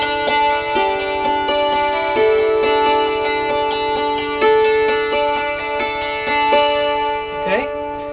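A mountain dulcimer rings out with a series of plucked and strummed notes, close and clear, with sustained tones and a short slide near the end, with no talking over it.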